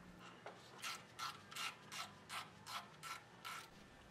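A ratchet loosens the 14 mm bolt on the timing belt tensioner of a SOHC 2.5L Subaru Legacy, giving about ten close, evenly spaced clicking bursts in steady rhythm with no talking.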